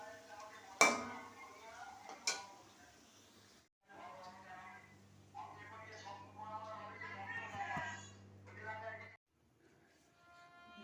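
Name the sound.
pots and pans clinking while frying pakoras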